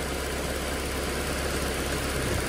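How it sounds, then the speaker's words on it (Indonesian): A 2007 car's engine idles steadily at a junkyard, a constant close rumble with a faint knocking edge and no voices over it. "Mesinnya hidup. Normal."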